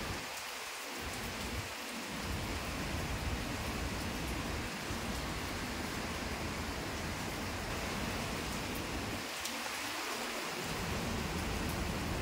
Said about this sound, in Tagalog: Grabe ang ano ng hangin. Ang lakas ng ugong.